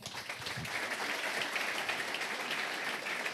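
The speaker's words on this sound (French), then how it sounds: "On peut les applaudir, hein." An audience applauds at a football club's 2021-2022 season launch event, a dense, steady wash of many hands clapping throughout at a fairly even level, with no voices over it.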